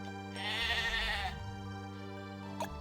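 A sheep bleats loudly with a wavering, drawn-out cry, followed by a quieter second call near the end over steady background hum.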